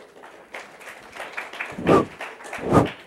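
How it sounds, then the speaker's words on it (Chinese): Audience applause greets a speaker at a SITCON 2014 conference talk: a steady patter of clapping swells in two louder surges near the end, with no talking over it. "那我让我们掌声欢迎他。"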